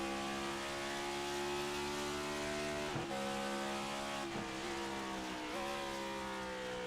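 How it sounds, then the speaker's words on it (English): A race car engine at Gateway drones at a sustained high, steady pitch, with brief dips as gears shift, loud and continuous with no talk. "There ain't no sound better than the sound of a race engine."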